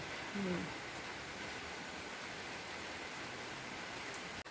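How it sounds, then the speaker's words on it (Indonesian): Rain falling outdoors as a steady, even hiss, continuous and unbroken, with a brief faint murmur near the start and a short knock near the end. "Hujan. Tuh, cucianku nggak kering."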